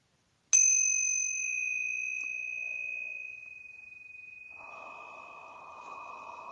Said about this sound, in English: I'm going to ring the tingsha bells to clear out any lower vibrations and create a pure sacred space